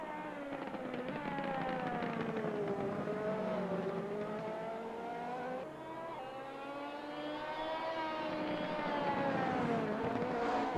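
GT3 race cars lapping Spa in a racing video game whine through gear changes, engine pitch climbing and dropping in repeated sweeps, loud and continuous with no voices.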